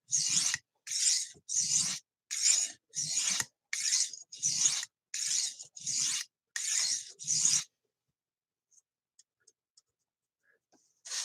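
A knife is drawn across a whetstone in about a dozen even, rhythmic rasping strokes, close and crisp, followed by near silence with a few faint ticks.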